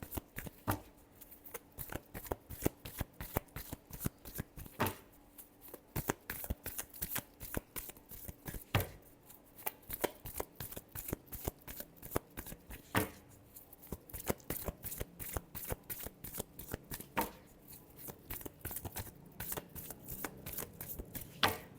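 Tarot cards riffle-shuffled by hand in a long steady run of crisp rapid flutters, close and fairly quiet, with no voices.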